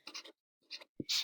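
A pen writes a dollar amount on paper in quick short strokes, three separate bursts of scratching close up with brief pauses between and no talking.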